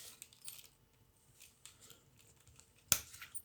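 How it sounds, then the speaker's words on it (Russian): Scissors snip the ends of cord on a decorative knotwork piece, a single sharp close cut standing out after quiet rustling and small handling noises. "Вытягиваю чуть-чуть и обрезаю"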